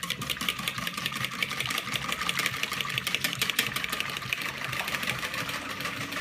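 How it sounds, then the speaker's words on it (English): Electric whisk whipping double cream for a dessert, a steady continuous motorized whirr with a buzzing, rattling edge, close and even in level throughout. "Slightly whisk it."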